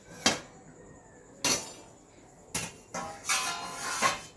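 A metal lid clatters as it is lifted off a covered pan of biscuits cooking on a gas stove: about five sharp, close clinks and knocks, spaced unevenly, with quiet between them and no voices.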